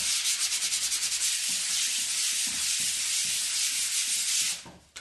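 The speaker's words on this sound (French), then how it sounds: "vous passerez un papier de verre très fin pour poncer votre premier passage d'enduit" Steady rhythmic rasping of very fine sandpaper sanding a first coat of filler on a wall being prepared for paint, continuous back-and-forth strokes, close and fairly loud, stopping abruptly near the end.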